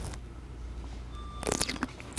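A hot dill pickle bitten on a dinner date, giving a short sharp crunch near the end that stands out against quiet room background.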